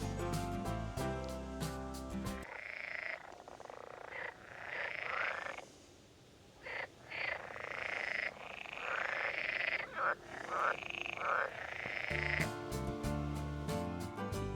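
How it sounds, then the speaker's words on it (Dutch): Many frogs croak in a potato breeding test field, a dense chorus of rapid rattling calls that swells and dips, steady and moderately distant, with no talking over it. "Het stikt hier van de kikkers."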